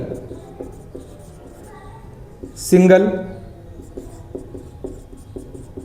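Marker or chalk writing on a board during a class 10 science lesson, scratchy strokes in a steady rhythm under a teacher's speech, with one louder tap partway through.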